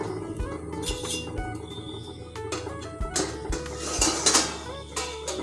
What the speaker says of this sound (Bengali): এবার আমি ঢাকনাটা খুলে দেখে নেব